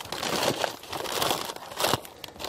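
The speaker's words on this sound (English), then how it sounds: "we'll crumple the bag" A plastic bag crinkles and crunches in bursts as it is crumpled around a seed plant, close and fairly loud, with no voices.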